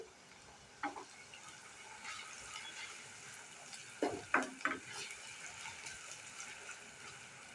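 Potatoes fry in a pan for a fish salad: a faint, soft sizzle with a few light clinks and stirring knocks in the middle.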